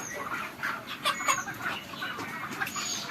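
Broiler chickens crowded in a poultry shed near harvest size make a busy, layered chorus of overlapping clucks and peeps. Short calls pop out here and there over a soft, steady background murmur, fairly close but not loud.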